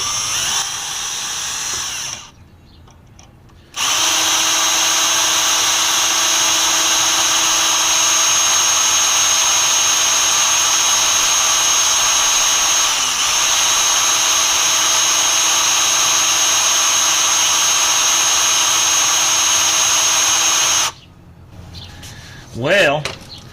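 A power drill whines steadily and close for most of the stretch, boring out a broken part while working on the brakes of a 1978 Dodge W150 truck, with short pauses at the start and end.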